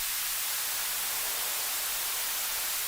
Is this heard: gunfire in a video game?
no